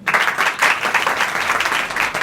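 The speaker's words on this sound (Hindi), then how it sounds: "इनके लिए ताली बजाओ।" Students in a coaching centre's Republic Day gathering break into steady applause, a dense burst of many hands clapping close by that carries on evenly for a couple of seconds.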